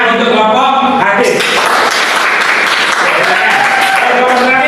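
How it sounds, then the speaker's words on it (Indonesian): A classroom group claps for the hadith study group, loud applause rising over voices and continuing under talk for several seconds. "Oke, tepuk tangan untuk kelompok hadis."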